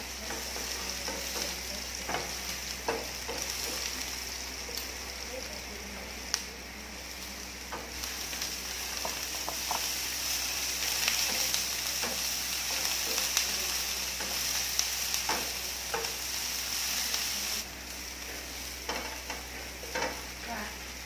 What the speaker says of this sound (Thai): จะผัดกับโปรตีนเกษตรอย่างเดียวก็จะใช่ที่